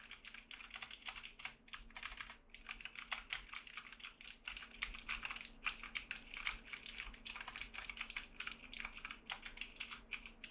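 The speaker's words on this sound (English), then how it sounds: "Here is a typing test to hear these switches in action." Fast typing on clicky blue-style mechanical keyboard switches of a budget keyboard, a close, continuous stream of sharp key clicks with brief pauses and no talk.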